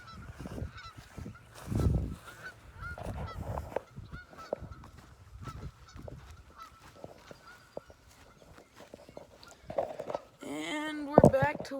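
Geese honk loudly and repeatedly at a Michigan pond, harsh calls in scattered bursts with a loud cluster near the end, while someone talks over much of it and footsteps shuffle nearby.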